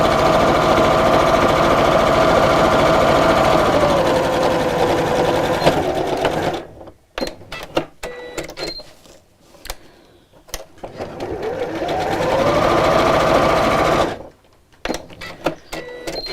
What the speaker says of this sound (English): So back down to my regular stitch length, and sew.